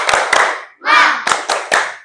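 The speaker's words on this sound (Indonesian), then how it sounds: "Tepuk semangat." A classroom of children performs a rhythmic spirit clap, sharp loud claps in a patterned beat with a short spoken call in the middle.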